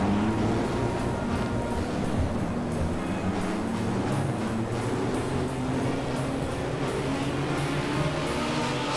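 Classic hot rod race cars roll off for a 20-lap final at an oval speedway, a loud, steady roar of engines blurring into a dense, continuous rumble at a distance.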